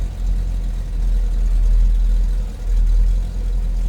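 A 1964 Chevrolet Corvette convertible's engine idles steadily close up, a loud, deep low rumble that swells and eases slightly in two gentle waves, with no voices over it.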